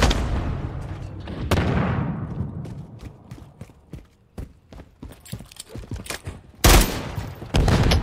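Grenade blasts and gunfire in Call of Duty Modern Warfare III: a string of sharp, separate shots crackle after an opening burst, ending in one loud, close explosion and more firing.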